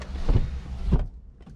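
Electric windows on a BMW E46 330Ci coupe closing, a steady motor whir close inside the car with two thumping surges as the glass moves and seats, then the whir cuts off.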